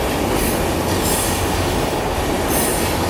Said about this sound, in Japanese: ちょうど上野東京ラインでしたやってきましたね